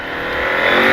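KTM 890 Adventure motorcycle with an aftermarket AliExpress exhaust, its engine roaring close and loud as revs climb steadily through a brief one-second burst.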